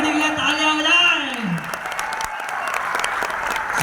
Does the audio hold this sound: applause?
yes